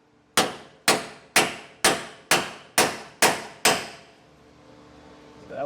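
Eight evenly spaced, ringing hammer strikes drive a Dexter E-Z Flex suspension part into a trailer on a 2012 Forest River Wildwood X, each sharp metallic blow decaying before the next, then quiet.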